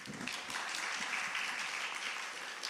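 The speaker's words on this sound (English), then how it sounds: "Please welcome the Professor Sean with big applause." An audience at a forum in Gwangju claps to welcome a speaker to the stage, a brief, steady burst of many hands that holds at an even level.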